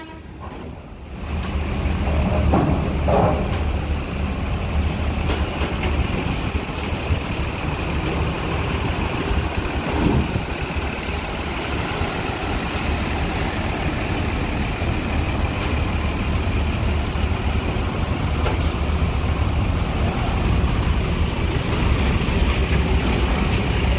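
A Sinar Jaya Jetbus 3 MHD coach on the Jogja–Ciamis route passes by, its loud engine roaring steadily close by, with sharp hissing air-brake bursts.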